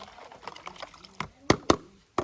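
Water poured from a container to rinse dirty dishes in a basin, irregular splashes and trickles that end in a few sharp louder pours, heard up close.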